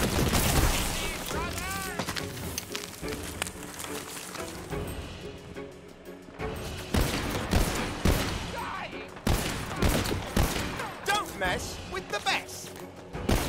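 Rapid gunfire from a drum-magazine gun in Tiny Tina's Wonderlands, dense volleys and bursts mixed with game music and effects, while a player talks over the action.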